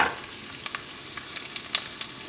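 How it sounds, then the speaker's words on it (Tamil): Vadagam frying in hot oil as tempering for a fish curry, a continuous bright sizzle with small crackling pops scattered throughout, close and alone without talk. "நம்ம வடகம் போட்டு தாளிக்க போகிறோம்."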